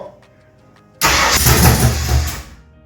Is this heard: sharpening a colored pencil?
no